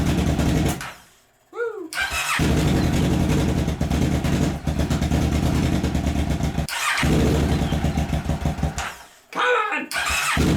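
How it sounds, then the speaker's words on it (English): A Kawasaki Ninja 650 motorcycle's starter motor cranks repeatedly in long grinding bursts, separated by short gaps, with brief excited shouts between attempts. "I feel like I'm killing the starter motor."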